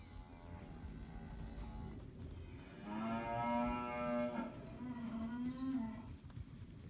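Brown Swiss dairy cows moo in a barn, one long, loud low call rising and falling over a steady hum of background noise, with no talk.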